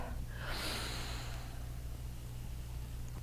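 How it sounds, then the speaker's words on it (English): A person takes an audible breath in during a gentle stretching exercise, a soft airy inhale close to the mic over a steady low background hum. "breathing in."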